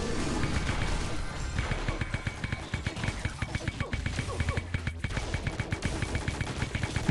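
Rapid gunfire from the mobile shooter Pixel Gun 3D, dense bursts of shots crackling continuously at close range with fast, uneven rhythm and no pauses.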